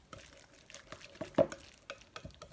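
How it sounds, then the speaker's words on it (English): Marinated chicken being mixed with a tablespoon of oil for Chinese rice noodles, heard as soft, close, irregular wet stirring and a few light scrapes and clicks against the bowl. "I put oil, one tablespoon of oil, and just mix it up"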